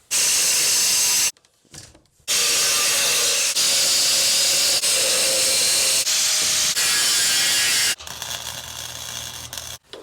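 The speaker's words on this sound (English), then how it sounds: "after a whole bunch of really ugly welds, I've finally got all the top surface welded together" Welding joints on a metal trailer frame gives loud, steady hissing crackle in long bursts, broken by a brief pause and ending in a quieter stretch.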